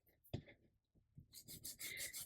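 Gritty rubbing of a sanding block over paper, a sharp knock near the start, then quicker, brighter scraping passes building in the second half, close by.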